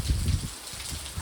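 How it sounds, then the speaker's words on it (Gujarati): Rain falls in strong wind in a village, giving a close, steady hiss with a gusty low rumble of wind buffeting throughout, and no voices. "વરસાદ ચાલુ થઈ ગયો ને બહુ પવન છે"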